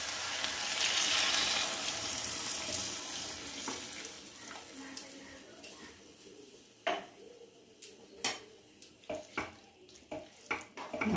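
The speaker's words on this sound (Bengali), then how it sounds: "এবার আমি উষ্ণ জল দিয়ে দিচ্ছি" Warm water is poured into a pan of potol chingri curry, making a loud hissing rush that fades over a few seconds, then gives way to scattered clinks and taps of a utensil against the pan.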